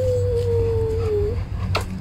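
A big dog howls in one long, steady, slightly falling note lasting over a second, close and clear, followed by a short quieter sound and low background hum.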